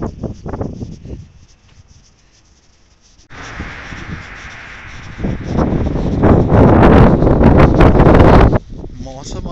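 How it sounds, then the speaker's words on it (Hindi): Wind gusts roar and buffet against the microphone outdoors on a suddenly cold day after snowfall, swelling to a loud, sustained rush while someone talks. "उसके ऊपर से हवा चल रही है"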